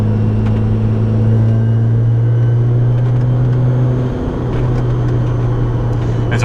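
Supercharged Kraftwerks Honda S2000 CR engine droning while driving, a loud steady hum with strong low tones that shift slightly partway through, continuous under road rumble.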